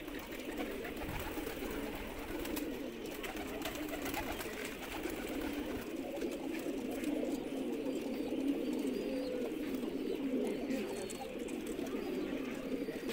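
Shirazi pigeons in a cage, a steady chorus of soft, low cooing from many birds at once, close by and continuous, with faint background voices.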